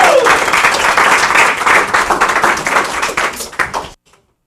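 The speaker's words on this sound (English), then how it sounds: "them a big round of applause." An audience gives a loud, dense round of applause for two volunteers at a talk, sustained for about four seconds before cutting off abruptly.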